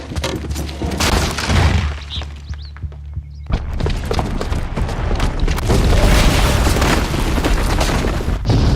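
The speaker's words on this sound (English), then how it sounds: "the booby trap on the bomb downstairs is gonna get set off" A bomb booby trap goes off in the video game Horizon Zero Dawn, a loud deep boom and rumbling debris with thuds, a short lull, then a sustained roaring blast of crashing noise.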